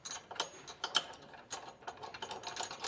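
A wrench clicks and ratchets in quick, uneven bursts as a nut is started onto a bolt of an adjustable-width RV trailer hitch receiver, close and moderately loud with no talking.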